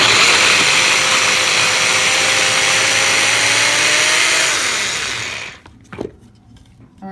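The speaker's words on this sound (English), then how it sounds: "I'm going to now just crush up my, process in my mini processor, my onion and fresh garlic." A mini food processor whirs loudly and steadily while chopping onion and fresh garlic, a continuous motor whine running for about five seconds before cutting off, followed by a few faint clicks.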